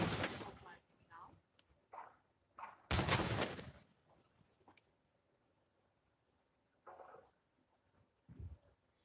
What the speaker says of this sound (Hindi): Honorable President of India receiving 21 guns